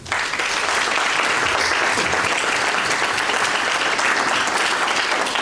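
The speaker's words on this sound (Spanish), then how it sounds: "para quien pido un fuerte aplauso." An audience at a book presentation applauds steadily for several seconds, a dense and even wash of many hands clapping with a faint murmur of voices underneath.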